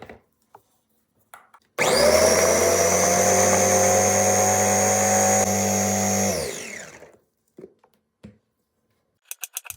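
An electric grinding blender whirs loudly as it chops onions for Kazakh samsa filling, starting abruptly and running steadily for several seconds before winding down, with quiet knocks and handling sounds before and after.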